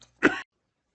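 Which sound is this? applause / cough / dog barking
cough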